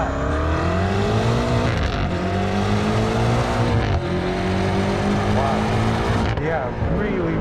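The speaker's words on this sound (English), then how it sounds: "manual shift mode, downshift into first, and let's give it some acceleration." A BMW M8 Gran Coupe accelerates hard in manual shift mode from first gear, its engine note climbing loudly through gear changes with rising pitch sweeps, while a driver talks over it.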